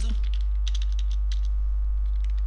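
Someone types on a computer keyboard in quick, light clicking keystrokes that come in short bursts over a steady low electrical hum. The sound is close, with no talk.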